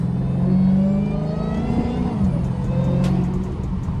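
A Dodge Hellcat engine, set in manual mode, revs up and then drops as a paddle-shifter downshift changes gear, holding a loud, close, steady drone throughout with no talk.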